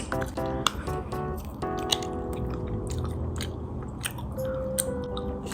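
Someone chews a chewy gummy burger candy from Indonesia, giving close, moist squishing and biting sounds in a steady rhythm, with a faint tone near the end.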